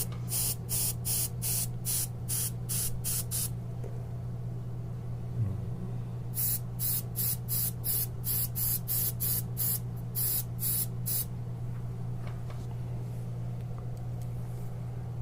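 An airbrush sprays UV body paint in repeated bursts of sharp hiss, a run of short pulses, a pause, then another long rapid series, over a steady low compressor hum close by.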